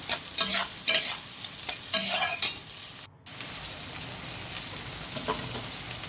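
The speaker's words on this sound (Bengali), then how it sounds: "তার সঙ্গে আমি ক্যাপসিকামগুলোও একই সঙ্গে ভেজে নেব।" Capsicum frying in ghee with a little salt, stirred in bursts: scraping stirs and bright sizzling crackle come close and clear, easing to a steady low sizzle after a brief silent break.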